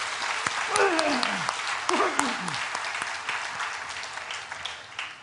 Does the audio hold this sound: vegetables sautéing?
no